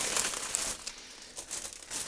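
A plastic bag is crumpled up for recycling, giving close, crinkly rustling in uneven bursts that keeps going for a couple of seconds, with no speech over it.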